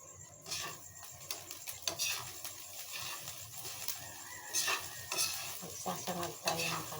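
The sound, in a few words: stir-frying rice in a pan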